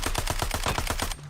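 Rapid automatic gunfire in the Black Ops battle royale game, a steady burst of about a dozen evenly spaced, loud, close shots with no pause, cutting off abruptly at the end.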